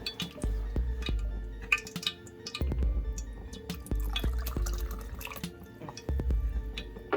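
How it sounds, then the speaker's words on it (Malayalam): Water goes into a pan for a Kollam-style coconut fish curry, heard close as dripping and splashing mixed with clinks of utensils against the pan, with no talk. "ഈ ടൈമിൽ നമുക്ക് ആവശ്യത്തിന് വെള്ളം ഒഴിച്ചു കൊടുക്കണം കേട്ടോ."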